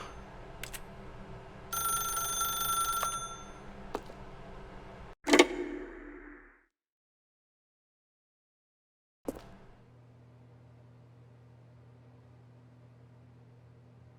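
Telephone ringing in The Stanley Parable: Ultra Deluxe, a bright repeated ring near the start followed by sharp clicks, a stretch of silence, and a quiet room hum afterward.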